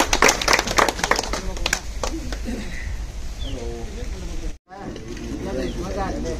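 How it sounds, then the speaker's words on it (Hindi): Clapping at a village retirement farewell after 35 years of government service, with a dense burst of applause at the start that fades into background crowd noise and someone speaking over it. "वो तालियां।"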